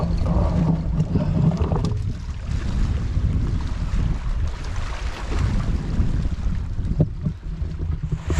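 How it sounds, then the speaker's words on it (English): Strong northeasterly wind buffets a South Wales sea-fishing spot on the coast, a steady roar and microphone rumble with surf washing beneath, loud and continuous throughout. "that old northeasterly, it's getting quite nasty now"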